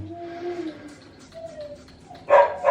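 Dogs bark sharply twice near the end, moderately close, after quieter whines and faint background noise.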